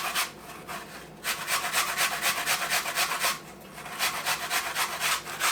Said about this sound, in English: I thought I would do what the recipe said today and grate them